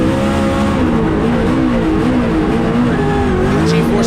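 Mustang RTR Spec 5 FD race car at Goodwood Festival of Speed, roaring engine revving up and down through turns, loud and close, with faint tire squeal.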